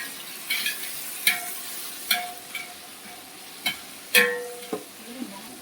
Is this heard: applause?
no